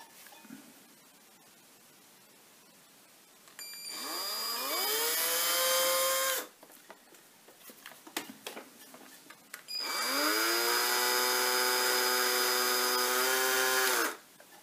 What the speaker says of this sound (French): Et je vais percer légèrement.